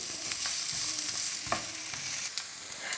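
Onion frying in hot oil in a pan, a dense, continuous sizzle close up with occasional soft stirring scrapes, no voices.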